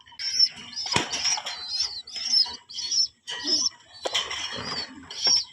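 Pigeons flap their wings in repeated short bursts up close, mixed with soft chirps and coos, with a little background voice now and then.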